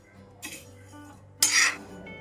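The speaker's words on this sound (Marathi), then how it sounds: "आपल्याला हलके हलके तांदूळ भाजून घ्यायचे आहेत. तर मी भाजून घेते तांदूळ." Rice dry-roasting in a pan, stirred with a metal utensil. Two close scraping, clinking strokes rise over a low steady hiss, the second one louder.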